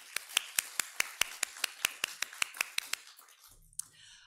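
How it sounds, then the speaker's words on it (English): Live-event applause that sounds like a single pair of hands clapping in a steady, evenly spaced rhythm of about fifteen sharp, close claps, then stopping abruptly, with a brief murmur at the end. "So one more round of applause for Gordon Krupski"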